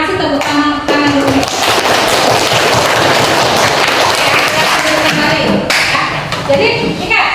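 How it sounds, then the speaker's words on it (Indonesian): Students in an Indonesian classroom give a loud, sustained round of hand clapping that fills the whole stretch, with scattered voices and cheers mixed into the dense applause. "Kasih tepuk tangan dulu."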